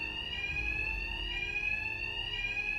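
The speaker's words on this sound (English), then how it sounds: "My attacks will be covered by the noise of the alarm." An alarm ringing in Batman: Arkham Knight, a continuous shrill electronic bell tone held steady and loud throughout with no other sounds over it.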